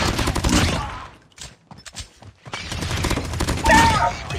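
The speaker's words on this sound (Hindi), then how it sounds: "ये मशीन गन भाई ये कौन मार रहा है भाई अपनी टीम में?" Rapid machine gun fire in Call of Duty Mobile, loud sustained bursts at the start and again toward the end, broken by a few scattered single shots in between.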